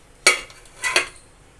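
A spoon knocks and scrapes against a steel pot holding steamed Gujarati muthia: one sharp clink, then two quick metallic taps a moment later, close and fairly loud in a quiet room.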